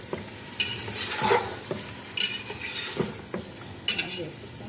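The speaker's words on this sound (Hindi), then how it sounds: "हम इसमें शामिल करेंगे अदरक लहसुन का पेस्ट। दो मिनट तक इसको हम भूनेंगे" Ginger garlic paste stir-fried in a pan for Masoor ki Dal gosht, with a soft steady sizzle under repeated scraping of a spoon against the pan and occasional metal clinks, all close by.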